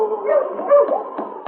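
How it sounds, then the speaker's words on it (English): Sled dogs yip and whine in a dense, continuous chorus as a dog sled approaches in a 1951 radio drama set in the Yukon, filtered and mid-range like an old broadcast. "As he nailed it to the door, a dog sled approached."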